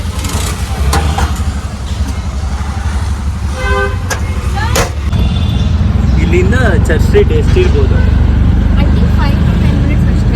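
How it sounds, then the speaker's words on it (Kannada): Riding in an auto rickshaw through Bangalore traffic, with a constant close engine drone, scattered horn toots and passing vehicles, while people talk inside. "ಪಾಸಿಂಗ್ ಆಟೋ ಹತ್ಕೊಂಡು ಹೋಗ್ತಾ ಇದ್ದೀವಿ"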